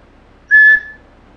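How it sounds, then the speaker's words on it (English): A single short, clear, shrill whistle, loud and close, blown on a .223 rifle round wrapped in electrical tape, sounding once in otherwise quiet surroundings. "in here is a 223 round wrapped in electrical tape. That gives you some electrical tape and also makes a good whistle."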